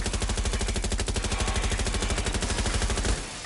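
Rapid automatic gunfire in the video game Watch Dogs, a dense, evenly spaced stream of loud shots lasting about three seconds before cutting off abruptly, close and with no speech.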